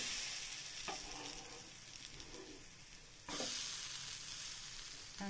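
Just-flipped ragi vegetable pancake frying on low heat in a pan, a close, steady sizzle with soft hiss, briefly disturbed by a couple of scraping or shifting sounds and a sudden rise in sizzling partway through; no voices.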